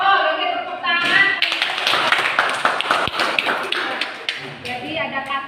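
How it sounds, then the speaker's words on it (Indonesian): Classroom clapping from a group of students, a dense burst of quick hand claps after brief talk, fading as a voice returns at the close. "tepuk tangan"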